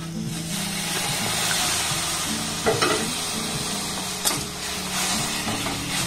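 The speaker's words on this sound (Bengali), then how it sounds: "দুধটা একেবারে খুব বেশি দিয়ে দেবেন না, অল্প অল্প দেবেন আর এটাকে খুব ভালোভাবে মিক্সড করবেন।" Biscuits being stirred and mixed with liquid milk, a steady wet scraping and churning that runs throughout, with a couple of sharper knocks of the utensil against the bowl.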